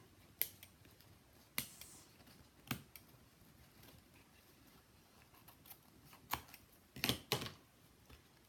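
Scissors snipping paper for a shabby chic Easter box, a few sharp isolated cuts spaced apart followed by a quick cluster of snips near the end, close and fairly quiet.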